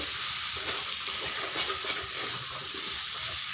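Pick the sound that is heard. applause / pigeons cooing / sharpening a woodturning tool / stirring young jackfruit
stirring young jackfruit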